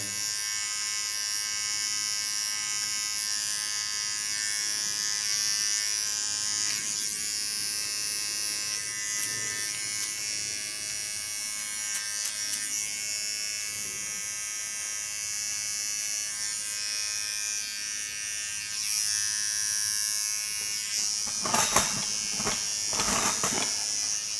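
Electric hair clippers buzz steadily and up close while sharpening the contour line of an asymmetric clipper haircut, a continuous motor drone with a few brief clicks and shifts near the end.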